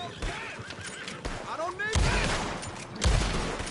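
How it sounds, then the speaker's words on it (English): Gunfire in the Red Dead Online game: a few sharp, heavy shots crack loudly at about two and three seconds in, over a busy background of other game sounds and a voice. "Gunshots. Those gunshots."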